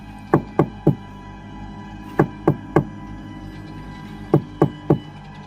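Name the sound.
knocking on a house door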